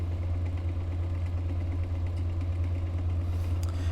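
Bedini pulse motor with a cap-dump circuit running at about 525 RPM, a steady low electrical hum with a faint even ticking that holds throughout, close and continuous.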